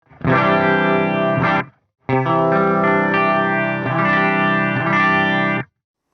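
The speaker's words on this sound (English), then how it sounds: "you get a sort of a slight chorusy tone" A sustained guitar chord through a cassette-recorder RecHead pedal set to low sensitivity, with a slight wavering, chorus-like vibrato shimmer, played twice with a brief silence between.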